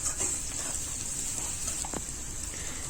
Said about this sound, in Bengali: এবার এটাকে ভালো মতো আমি ভেজে নিব।